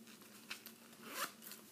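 The zipper on a small Coach Kira nylon wristlet is pulled open, a faint close-up sequence of short rasping zips and soft clicks in a quiet room.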